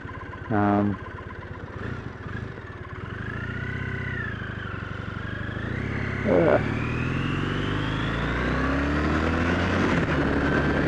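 A Triumph Bonneville motorcycle riding through heavy traffic, its engine a steady drone that slowly climbs in pitch as it accelerates, with a couple of brief louder bursts from passing traffic.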